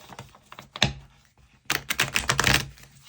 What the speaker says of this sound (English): She shuffles beautifully. Good riffle shuffler.